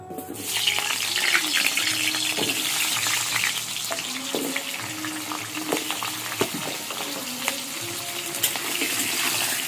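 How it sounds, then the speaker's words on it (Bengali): Diced potatoes sizzle steadily in hot mustard oil, a dense, continuous frying hiss up close with small pops and occasional stirring scrapes throughout. "তেলটা পুরোপুরি গরম হয়ে গেছে, আলুগুলোকে ভেজে নেবো"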